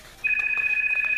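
A telephone rings with a steady high electronic tone that starts abruptly and holds on loudly to the end, close by and alone.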